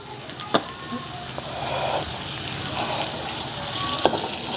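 Chopped onion sizzles in hot oil in a pan for vegetable curry, a steady close frying hiss with small pops and clinks, while a voice talks over it.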